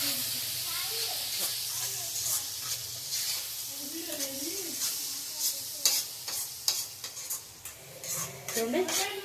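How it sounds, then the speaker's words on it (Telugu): A spice mixture stirred and sizzling in a pan over a medium flame, with steady frying hiss and scraping of the spoon against the pan, under a voice talking throughout. "కొద్దిగా కలుపుకోవాలి, మీడియం స్లిమ్లో పెట్టేసి కలుపుకోవాలి"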